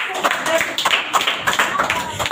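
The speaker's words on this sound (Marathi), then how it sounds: "मी म्हटलं तर मुलांनी टाळ्या वाजवायला सुरुवात केली" Students clap together in a classroom, giving a brisk, fairly close patter of many hands in uneven bursts under a voice talking.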